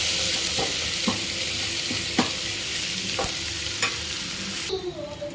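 Onions sauté in a pan for potato kurma, giving a steady close sizzle broken by several sharp clicks of a utensil stirring against the pan.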